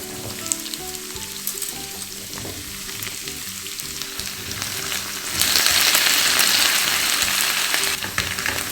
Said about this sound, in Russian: отправляю нарезанную картошку на разогретую сковородку